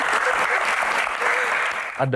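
An audience at a celebrity Q&A event applauds in a full, even burst of clapping, then a person begins speaking as it stops.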